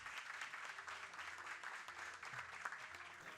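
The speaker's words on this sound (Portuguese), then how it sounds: "Mais uma vez, uma salva de palmas para esse lindo casal." Sustained applause from an audience at a formal event, steady and continuous clapping throughout with no pauses, moderately distant and even in loudness.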